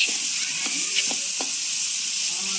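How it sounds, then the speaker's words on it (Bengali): Dried red chili fries in oil in a pan for a vegetarian eggplant and beans dish, giving a brief close sizzle with a few soft pops and crackles and no talking. "ভালো করে ভেজে নেব"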